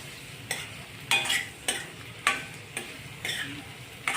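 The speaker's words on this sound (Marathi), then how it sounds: "अगदी व्यवस्थित परतून घेणे." Chickpeas with fresh coconut, ginger-garlic paste and coriander sizzle gently in a pan. A spatula scrapes and taps in regular strokes about every half second, with no talking.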